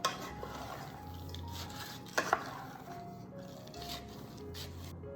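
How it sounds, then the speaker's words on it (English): Quiet stirring of keto crack slaw in a pot, soft scraping through the whole stretch, with a pair of sharp utensil clinks against the pot midway. "Let me stir it."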